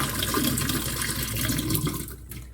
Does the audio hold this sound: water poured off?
yes